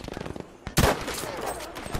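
Gunfire in the video game Battlefield V: a loud, sudden burst of shots cuts in partway through and rings out over a steady background of game sound.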